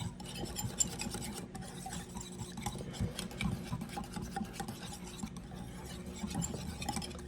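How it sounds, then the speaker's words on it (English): Ingredients mixed with two teaspoons of brown sugar are stirred together in a bowl, giving a steady close scraping and rubbing of utensil against dish throughout, with no voices. "And we are just going to mix that all together."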